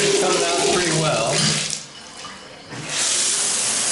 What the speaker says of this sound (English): Let's check the hot water. So you can hear it coming out pretty well.